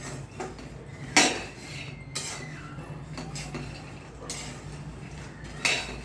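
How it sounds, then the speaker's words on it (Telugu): Laddu ingredients are dry roasted in a pan and stirred, giving close metallic scraping and clinking of a utensil against the pan with a few sharper clanks over a steady low background, with no talk. "ఇవి ఈ విధంగా వేయించుకోవాలండి ఈ విధంగా వేయించుకుంటే బాగుంటుంది"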